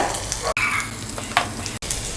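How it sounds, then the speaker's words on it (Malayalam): Chopped garlic and ginger dropped into hot oil left from frying sizzle loudly and continuously up close, with stirring and two very brief dropouts. "ആ എണ്ണയിലേക്ക് തന്നെ ഇതാ കുറച്ച് വെളുത്തുള്ളി അരിഞ്ഞിട്ട് കൊടുക്കാം കുറച്ച് ഇഞ്ചി അരിഞ്ഞത്"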